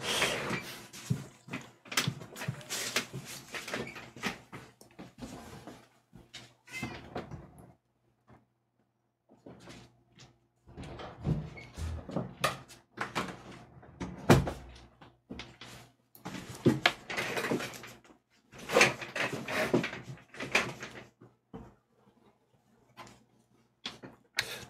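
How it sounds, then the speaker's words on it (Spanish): An indoor door being opened, heard as scattered clicks, knocks and rattles spread in irregular bursts over a longer stretch, with quiet gaps between them. "He abierto la puerta de espaldas mientras miraba la pantalla."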